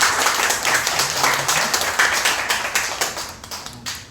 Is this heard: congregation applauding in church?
yes